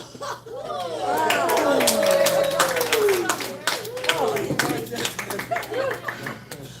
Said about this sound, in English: Now we just gave you a clap, you're clapping yourself again.